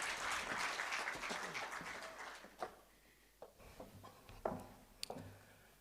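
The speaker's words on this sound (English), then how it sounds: "A round of applause for him" A crowd claps for the CEO of a national TV authority, also president of SABA, at a formal SADC gathering; dense applause for about two and a half seconds, then it thins into a few scattered claps and knocks.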